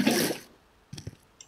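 In Minecraft, water is placed with a brief rushing splash at the start, followed by a few soft, faint drips and trickles.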